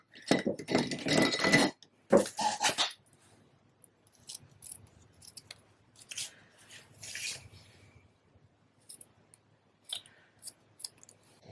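Scissors trimming the ribbon ends of a handmade card bow, a few quick close snips and rustles of ribbon among quiet pauses.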